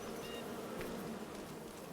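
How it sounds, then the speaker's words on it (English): Bees buzzing in the Farming Simulator 25 farming game, a continuous faint insect drone that hums steadily throughout without any talk. "Well, those bees are active today."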